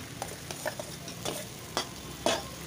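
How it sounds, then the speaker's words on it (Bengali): Whole cumin, dried chillies and bay leaf stir-fry in hot oil in a pan, with soft sizzling and several light stirring scrapes and clinks, close and quiet, with no voices. "জিরে, শুকনো লঙ্কা, তেজপাতা ফোড়ন দিয়ে মশলাটা আমি একটু কষিয়ে নিচ্ছি।"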